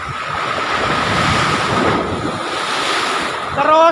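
Steady roar of surf washing in and breaking, with wind buffeting the microphone throughout and a brief rising tone near the end.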